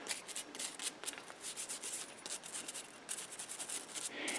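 Brushing mineral spirits over an Arisaka Type 99 rifle to loosen dirt makes a steady, close scrubbing and rubbing sound of bristles working in repeated strokes throughout, with no talking.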